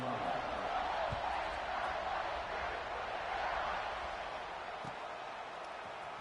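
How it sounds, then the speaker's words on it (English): Stadium crowd noise in a college football video game, Oregon versus Ohio State, a broad continuous roar at moderate level with a few faint thuds, under a commentator's voice. "this crowd now ready to get behind them"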